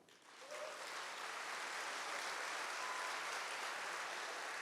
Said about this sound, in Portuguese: aplaudei de novo